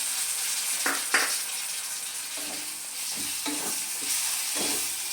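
Finely chopped tomato sautéing in a pan for egg and potato curry, a constant soft sizzle with a few scraping spatula strokes and light clinks against the pan.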